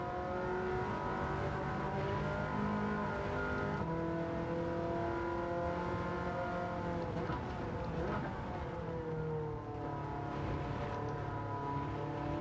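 Ferrari 308 GTB race car in Gran Turismo 7, a steady, loud engine drone with layered harmonics and shifting pitch as the car is driven through corners, with a brief dip near the end and no talk over it.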